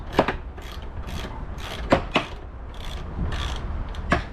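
A main bolt is worked loose on a 150cc cafe racer motorcycle, producing repeated close ratcheting clicks and metallic knocks in an irregular rhythm, with no talking.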